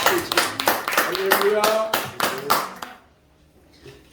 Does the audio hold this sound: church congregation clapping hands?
yes